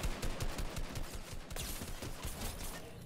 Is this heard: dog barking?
no